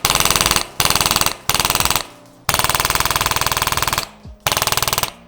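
A Wolverine MTW Fossil airsoft rifle fed from a standard EPM magazine fires loud, close, rapid full-auto bursts of mechanical clacks, several strings separated by short pauses.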